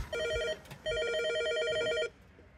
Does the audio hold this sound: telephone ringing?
yes